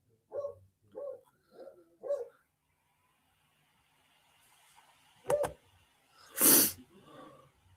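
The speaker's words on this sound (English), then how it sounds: "My fiance is taunting the dog. That's what you hear." A pet dog gives four short, evenly spaced barks close by, then after a pause lets out a sharp sneeze-like snort and a louder bark burst while someone teases it indoors.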